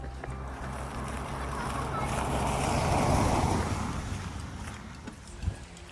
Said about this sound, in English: it's now started to pour down on us